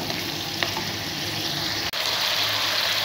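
Chopped chillies sautéing in hot oil for chicken matar salan, a steady close sizzle and fry throughout with a brief stir clatter, no voices.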